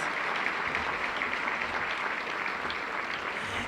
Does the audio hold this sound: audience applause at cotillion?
yes